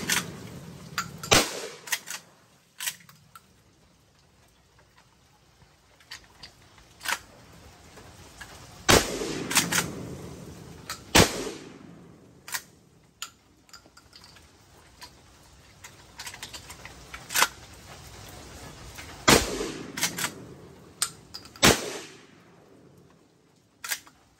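Outdoor shots from a Winchester 1887 clone lever-action shotgun fitted with a drop 2 conversion, on a nasty-weather day: several loud, sharp reports spaced irregularly across the stretch, each with a brief echoing tail, and no talking.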